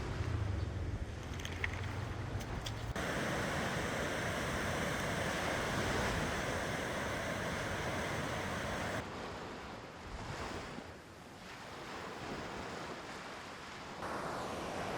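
Ocean surf washes continuously onto a beach at Uluwatu, Bali, a broad roaring hiss of breaking waves mixed with gusts of wind buffeting the microphone.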